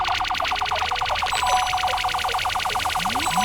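An alarm blares in the video game Breed Memorial, a loud rapid repeating electronic pulse that cycles steadily with no pauses, while faint rising tones sweep in near the end.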